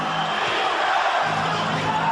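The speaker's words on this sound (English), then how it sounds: "This foreign crowd." Large basketball arena crowd roaring continuously in a dense, loud wash of cheering at an NBA game during the 1991–1993 Chicago Bulls era.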